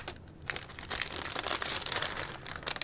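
Resealable plastic bags holding clear parts from an ICM Gloster Gladiator Mk I model kit are opened close up, giving a run of crinkling and rustling bursts with no voices.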